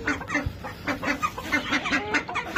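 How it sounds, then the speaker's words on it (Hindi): Hens clucking in a rapid, continuous chatter at close range as they come inside a small farm enclosure, with one brief low thump partway through. "मुर्गियां भी अंदर आ गई हैं,"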